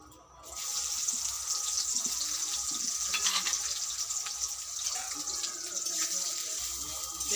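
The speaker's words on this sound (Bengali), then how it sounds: "তেলটা গরম হয়ে গেছে, পেঁয়াজ কুচনোটা দিয়ে দেবো।" Sliced onions drop into hot oil and sizzle loudly, a dense, steady hiss that starts abruptly and continues close up, with faint kitchen clinks in the background.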